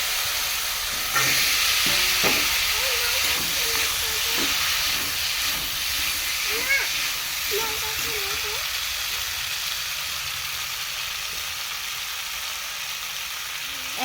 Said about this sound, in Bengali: এখন আমি আলুটা দিয়ে দেবো